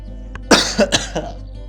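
A person coughs in a short burst of three or four harsh, close coughs, the first loudest, with a faint throat-clearing tail during a relaxed tabletop board game session.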